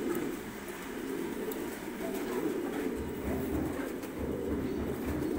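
Pigeons cooing at a pigeon farm, soft low repeated coos from several birds blending into a steady murmur, with a background hum and no clear talk.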